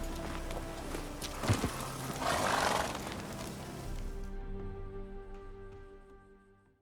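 The horse Roach gallops in The Witcher 3, a rhythmic clip-clop of hooves that rises to a louder rush midway, then fades gradually as the sound trails off.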